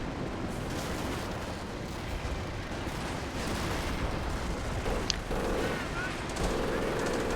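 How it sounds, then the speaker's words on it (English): Sustained battlefield gunfire from Company of Heroes with the Blitzkrieg mod, machine-gun nests firing on infantry: a dense, continuous rattle of shots and explosions, loud and unbroken throughout, with a faint voice briefly underneath. "if infantry goes against like machine gun nests, they are getting wrecked"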